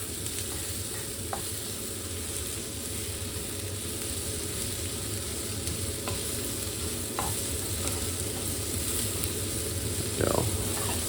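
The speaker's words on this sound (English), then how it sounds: "I really want to wait until my onions are caramelizing up" Onions fry in oil in a pan, a steady close hiss and sizzle lasting the full stretch, broken by a few faint clicks and a brief stir near the end.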